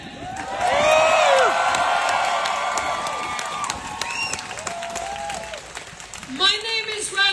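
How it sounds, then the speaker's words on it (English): Applause and cheering from a crowd at a Trans and Intersex Pride rally in Dublin, swelling loud early then fading, with whoops and shouts rising above the clapping and voices near the end. "Any applause is for them."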